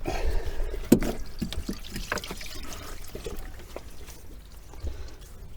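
Coolant trickles and gurgles as it is poured into the cylinder head of a VW T3 TDi engine, a close, steady liquid pour with one brief knock near the start and no talking.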